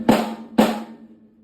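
Two sharp snare drum hits with the snare wires engaged, about half a second apart, each followed by a bright, buzzy rattle that rings out briefly, alone and close up.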